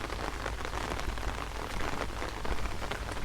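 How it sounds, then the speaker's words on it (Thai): Steady rain falls in a garden, a dense, even hiss of drops spattering on surfaces with no letup, close and moderately loud, with no voices. "บรรยากาศ ยามฝนตกครับ"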